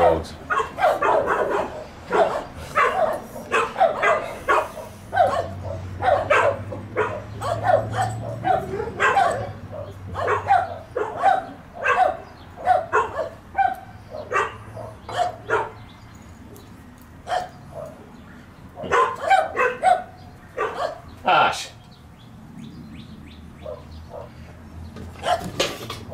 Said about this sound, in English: Seriously, dogs.